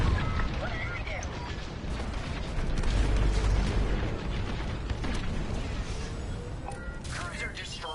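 A starship cruiser explodes in Star Wars Squadrons, a continuous loud, rumbling blast with deep low-end booms and crackling debris sustained throughout, swelling around the middle, with faint in-game radio voices underneath.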